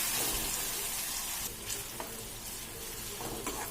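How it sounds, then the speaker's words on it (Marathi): Tomato sautéing in oil, a dense steady hiss of frying with a few faint clinks of a spoon, fairly quiet overall. "टोमॅटो पण छान असं पूर्ण तेलामध्ये परतून घ्यायचा"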